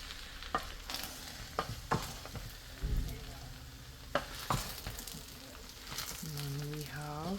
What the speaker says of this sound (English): So we're just gonna stir this. Give this a good stir.